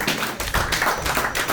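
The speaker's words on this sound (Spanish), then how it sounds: "Yo creo que se merece un fuerte aplauso." A seated audience rises to give a standing ovation at a talk about a historical explorer, a close, dense burst of clapping with occasional heavier thuds from people getting to their feet.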